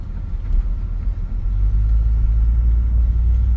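Wind rushing through an open window of a moving 1964 Ford Galaxie 500, a loud, steady low roar blended with engine and road rumble, building slightly partway through, no talking.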